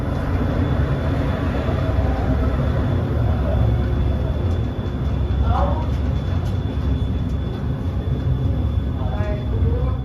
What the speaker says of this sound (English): the front of the train runs past the platform because the station isn't big enough for all the doors in the train to open